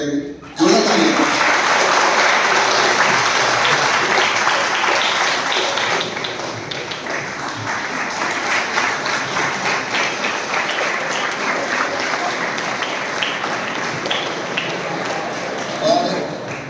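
An audience claps loudly to welcome a speaker at a gathering celebrating railway exam results. The dense applause runs throughout, loudest at the start and easing slightly midway, with a few voices and laughs mixed in.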